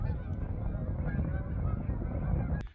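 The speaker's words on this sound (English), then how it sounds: "don't mind all the geese we got kind of flying right over us here" A dense flock of geese flying overhead honks continuously, many calls overlapping, fairly loud and steady throughout with no talking.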